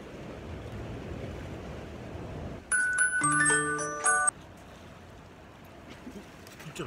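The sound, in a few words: ocean waves while sea fishing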